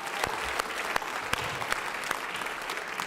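Audience applause at a Martin Luther King Jr. regional celebration evening event, a steady dense wash of clapping from a crowd with sharper individual claps popping out, sustained throughout without talk.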